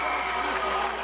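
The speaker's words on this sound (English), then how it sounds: "A big round of applause for Satch Sullinger," A short, steady burst of applause from a crowd honouring a basketball head coach at a 2009 championship trophy ceremony after the Columbus Northland versus Cincinnati Princeton game.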